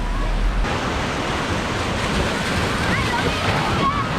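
Steady roar of ocean surf near Waikiki, Hawaii, with wind noise washing over the microphone, continuous and fairly loud throughout.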